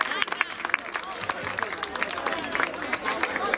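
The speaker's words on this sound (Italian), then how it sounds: "Un applauso a Pasquale!" An audience applauds Pasquale at an event in Casola di Napoli, with a steady patter of close, lively clapping and crowd murmur throughout.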